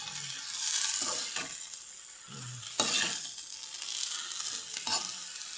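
Kangkong and mushrooms sauté in a pan with a loud, close sizzle. Three or four bursts of vigorous stirring and scraping rise and fall throughout, with no voices.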